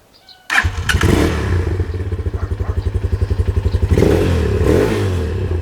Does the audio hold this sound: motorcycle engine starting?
yes